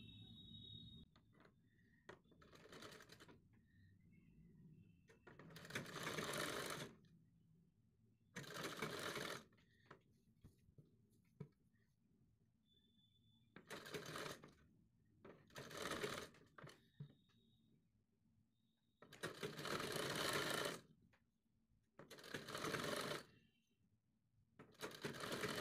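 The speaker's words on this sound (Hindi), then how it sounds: "यहाँ पर एक पैर के करीब सिलाई लगाएंगे।" Sewing machine stitching piping onto a garment neckline, in repeated bursts of fast stitching lasting one to two seconds each, separated by quiet pauses and small handling clicks, close and fairly loud.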